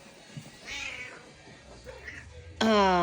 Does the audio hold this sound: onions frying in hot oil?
no